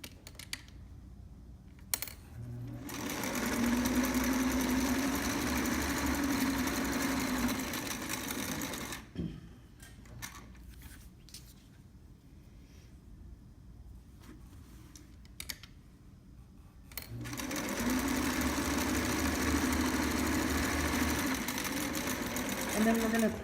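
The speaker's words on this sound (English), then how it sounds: "So now Lauren's sewing the fashion fabric part of the cap" A sewing machine stitches the fashion fabric of a trapper hat cap in two steady, close runs, with a stretch of talking and near-silence between them.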